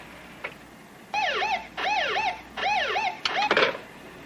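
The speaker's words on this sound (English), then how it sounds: "Cars coming, moving fast. Red lights and sirens." Police car sirens wail in repeated rising-and-falling sweeps, loud and close, ending in a burst of harsh noise with no talk.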